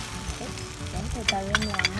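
Bánh xèo crepe batter tinted with colored syrup sizzles steadily as it fries in a hot pan, a soft continuous crackle with brighter spits toward the end.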